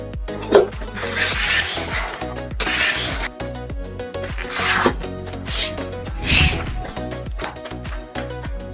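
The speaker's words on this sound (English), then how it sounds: "Let's open the box and take a look." Unboxing a KEY TOOL MIDI controller: brisk rustling, scraping and sliding of packaging, with short sharp rips and thumps in an uneven sequence, close and fairly loud.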